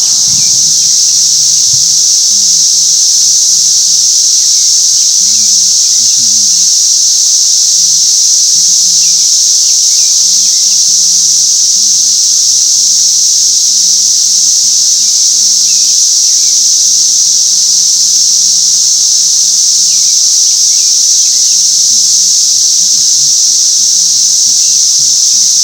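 Cicadas drone in a steady, loud, high-pitched buzz that never lets up, with faint low chatter underneath in the background.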